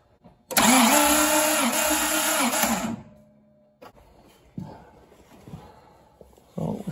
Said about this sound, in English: We'll give it a couple of cranks and we'll see what compression we get on the first one.